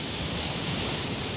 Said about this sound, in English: Should I be concerned about wind right now?